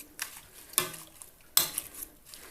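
A metal pot clanks onto a stovetop with a couple of sharp knocks and a soft scrape, close by against a faint background hiss.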